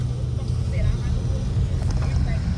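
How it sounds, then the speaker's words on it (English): A gray car speeds past on the road at around 70 mph, a steady close low roar of tire and engine noise with a brief swell, while someone talks over it. "That gray car just swooped past me."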